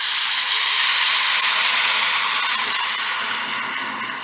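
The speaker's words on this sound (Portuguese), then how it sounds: "E agora, água fervente." Boiling water is poured into a hot pan of fried rice and meat, producing a loud, steady rushing hiss of steam and sizzle that fades slightly toward the end.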